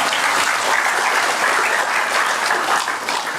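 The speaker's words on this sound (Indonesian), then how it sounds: "Sekali lagi tepuk tangan." Audience clapping at a religious haul gathering with a sermon, strong and continuous applause from a crowd filling the space evenly, steady from start to finish with no speech over it.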